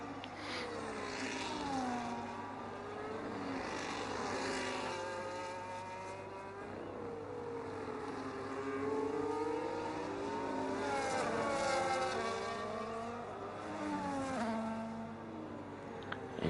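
Engines of race cars in a racing game at Abu Dhabi, a McLaren among them, continuous rising and falling whines sweeping up and down through gear changes, steady and moderately loud without speech.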